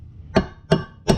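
A hammer striking a stuck aluminum engine part on a modified D-19 engine, three evenly spaced solid knocks, close and loud, with no talk.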